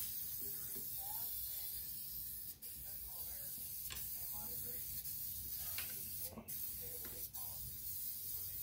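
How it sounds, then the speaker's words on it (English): Battery terminal protector sprayed from an aerosol can into a car battery tray, with hissing bursts standing out briefly over a steady background. "So I'm gonna take this terminal protector and squirt it in there and just coat it real good."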